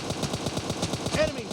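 Rapid automatic gunfire from the battle royale video game PUBG, a steady string of closely spaced shots filling the whole moment at a constant level.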